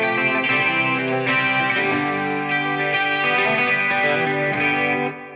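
An electric guitar plays through a Helix Brit Plexi amp preset, a loud, distorted classic rock tone with ringing sustained chords and notes that cut off sharply at the end.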